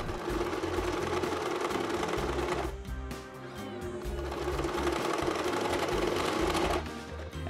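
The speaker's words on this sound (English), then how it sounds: "Then I sew the edges." Sewing machine running steadily while stitching the edges of a homemade washable cloth face mask, a continuous close whirring hum with a brief slowdown midway before resuming at full speed.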